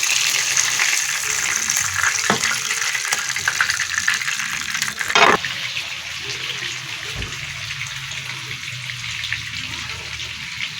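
Crispy fish frying in hot oil in a home kitchen pan, a steady bright sizzle running throughout, with a short louder crackle or clatter in the middle.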